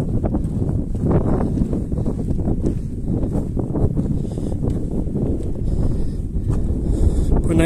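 Strong mountain wind on the Caraiman trail in the Bucegi range, buffeting the microphone in continuous gusty roars with some rustling, loud and close for the whole stretch.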